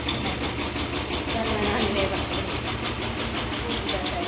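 Steady, close tractor engine running at idle on a farm, with a regular rapid pulsing chug and constant rumble throughout.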